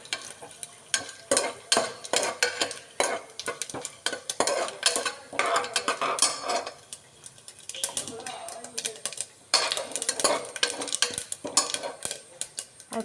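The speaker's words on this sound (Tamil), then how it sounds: "போட்டு லைட்டாக கிளறணும்." Ingredients for beetroot rice are stirred in a pan, giving repeated bursts of scraping and clinking against a light sizzle, in uneven waves with short pauses.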